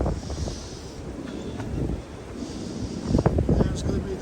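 High wind on the Pacific Crest Trail near Idyllwild in cold January weather, gusting and buffeting the microphone with a constant low roar that swells toward the end.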